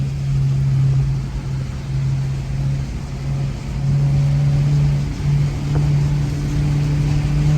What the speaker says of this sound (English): WRX attacking the Evo on track in the wet.